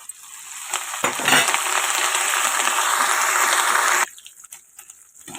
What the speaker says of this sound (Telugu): ఇదిగోండి పోపు ఈ విధంగా వేగింది